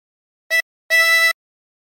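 Two blow notes on hole 6 of a chromatic harmonica: a short reedy tap, a brief gap, then a longer held note of the same pitch, both close and clear against silence.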